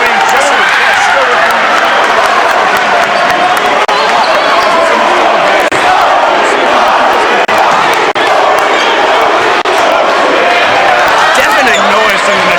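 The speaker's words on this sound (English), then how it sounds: "Deafening noise from the Nashoba crowd as it comes down to the wire" Deafening Nashoba crowd roar at a close high school boys' basketball game against Marlborough, a dense, loud, continuous wall of cheering and shouting with occasional ball bounces and thuds underneath.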